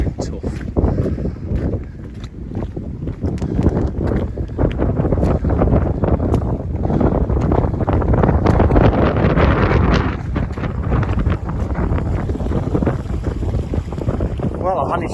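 Strong outdoor wind buffets the microphone on the West Highland Way near Glen Nevis, a steady loud roar with gusts building midway, close and continuous, with no talk over it.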